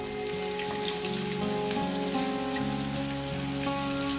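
Onions fry in a pan over a medium flame, giving a steady soft sizzle and crackle at low volume, with no talking.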